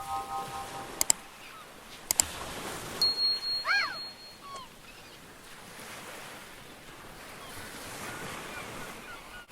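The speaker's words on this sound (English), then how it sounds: "You heard the seagulls and the crashing ocean." Ocean surf washes steadily along a shore with wind noise, a few brief high gull-like cries rising over it near the middle, and no talking.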